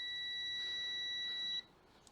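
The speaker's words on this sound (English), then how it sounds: "this thing will beep when the line is closed" A multimeter on continuity test gives one steady high-pitched beep for about a second and a half, then cuts off abruptly into quiet.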